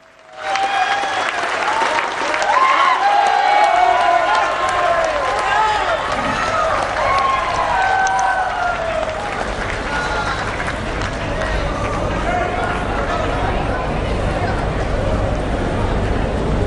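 A large crowd at a prime minister's outdoor political rally on a high school field in Baripada applauds continuously, a dense, loud wash of clapping that holds steady for the whole stretch, with a voice heard early over the noise.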